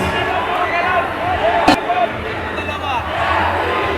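A crowd at a basketball championship game roars after a big steal and score, loud sustained cheering and babble with a sharp clap-like crack near the middle.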